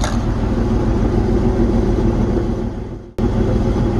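A Jeep Liberty driving with a worn rear axle wheel bearing makes a loud, steady low rumbling drone from inside the cabin, which dips briefly near the end and then resumes.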